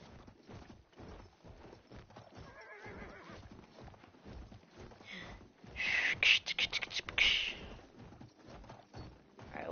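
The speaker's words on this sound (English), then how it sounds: "Ooh, I'm gonna get a horse." A horse in Battlefield whinnies loudly near the end, with clip-clopping hooves and quiet game noise throughout, while someone talks softly over it.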